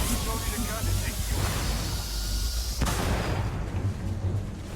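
A grenade blast in the space game Starfield, a loud booming burst with rumbling hiss that cuts off sharply partway through, layered with dense game noise and a voice talking.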